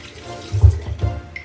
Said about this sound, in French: pour rincer vos mains.